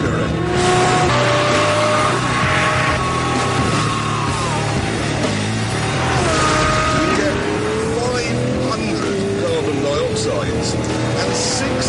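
Lamborghini LP640 with its enlarged 6.5-litre V12 driving hard, a loud continuous engine roar rising and falling through gear changes with tyre noise, heard close and sustained throughout.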